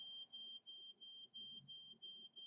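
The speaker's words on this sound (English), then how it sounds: "That's the fire alarm" Indoor fire alarm sounding in a rhythmic pattern of steady high-pitched beeps, each cut by brief gaps, moderately faint and heard alone.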